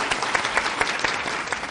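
Audience applause greeting the start of a Turkish show from Arapgir, Malatya: dense, steady clapping from a live crowd, close and lively, with no voices over it.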